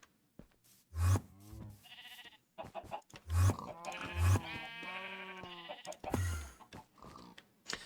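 Sheep in the Minecraft video game bleat several times in short harmonic calls, close and clear, spaced irregularly across the stretch with brief thumps between them and no talking.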